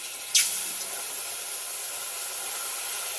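A splash of water poured into a hot pan of oil, amra fruit and tomato sauce, giving a sharp sizzling burst that settles into a steady, close hiss.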